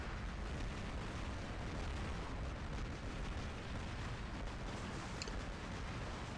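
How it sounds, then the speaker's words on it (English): Buckshot blasts from the Carnage Thunder's shotgun-style weapon in a vehicle combat video game, a dense continuous rumble of booming, crackling fire held at a fairly low, distant-sounding level with no voice over it. "Firing on that fat Fury, so it's taking a lot of damage from this buckshot."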